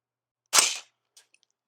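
A single sharp crack from a .30 caliber rifle firing subsonic ammunition through a 3D-printed suppressor, close and brief with a short decay, then faint distant clicks.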